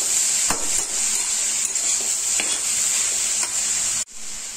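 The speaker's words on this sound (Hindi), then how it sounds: "गोभी को नमक के साथ मिक्स करेंगे।" Grated cauliflower is mixed with salt in a pan for gobi paratha, a continuous close hiss broken by a few soft scraping strokes, then a brief pause before the hiss resumes.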